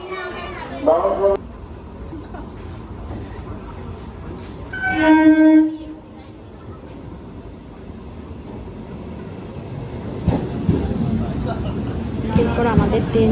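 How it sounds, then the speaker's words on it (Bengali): A train horn sounds briefly amid rumbling rail noise and a busy crowd, with people talking and children's voices around. "চলে এসেছে আমরা ট্রেনে উঠবো"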